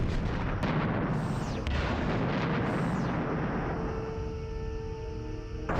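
A torpedo launcher is destroyed in Star Trek Bridge Commander, a loud sustained rumbling explosion with crackling bursts and sharp zaps, settling into a humming, ringing tail.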